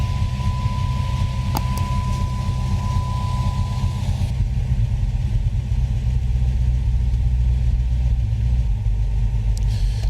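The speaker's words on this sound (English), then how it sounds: "It's got a pretty good chop, just I guess the exhaust is just so quiet." A V8 Dodge Charger idles nearby with a very quiet exhaust, giving a steady low rumble that runs unchanged for ten seconds. A faint tone and a click come early on, and no one speaks.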